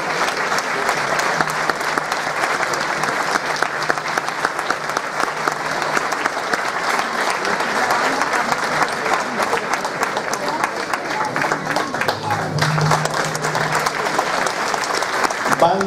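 Loud, sustained applause from an audience at an awards ceremony for municipal music bands on Saint Cecilia's day, steady dense clapping with crowd murmur filling the whole stretch.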